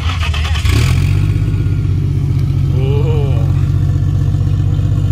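A 600 hp 2JZ-powered Commodore running 73% ethanol idles loud and close through race pipes, its deep burbling exhaust swelling into a brief rev mid-way and settling back to a heavy, lumpy idle.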